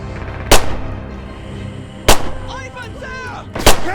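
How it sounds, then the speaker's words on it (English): Three loud, sharp gunshots ring out in the World War II shooter Red Orchestra 2: Heroes of Stalingrad, spaced about a second and a half apart over a rumbling battlefield, with faint shouted voices in between. "Enemy fire!"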